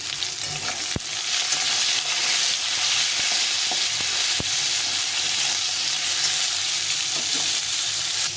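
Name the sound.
frying potatoes and bitter gourd in a pan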